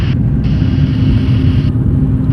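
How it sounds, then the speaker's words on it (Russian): Aircraft engines running on the runway before takeoff, a loud steady low roar and rumble with a constant hum, continuous throughout with no pauses. "Двигатели. Двигатели прогреты."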